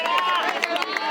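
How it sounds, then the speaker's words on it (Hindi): Crowd of spectators at a local tennis-ball cricket match clapping and cheering after a six, a dense close wash of hands and voices with brief louder bursts. "पहला तालियों से स्वागत किया यहाँ पर"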